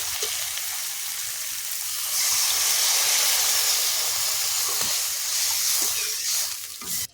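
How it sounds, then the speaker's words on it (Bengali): Water poured into hot oil and spice paste for a fish curry, with a loud, continuous steamy hiss that swells after a couple of seconds and stays strong until it cuts off. "তেল ছেড়ে গেছে, এবার জল দেব।"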